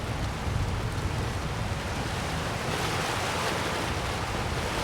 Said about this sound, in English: That water is loud.